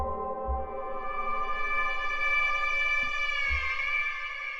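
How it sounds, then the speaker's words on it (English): A sustained, dark Nova chord synth pad hums steadily with rich layered harmonics, smooth and moody, alone with a few soft low thumps. "This sound, the Nova chord, is a really nice dark moody pad."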